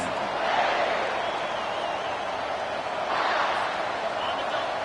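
Crowd noise from the EA NCAA college football video game, with a South Carolina dynasty game in progress. A loud, steady stadium roar fills the whole stretch, with a voice talking faintly underneath.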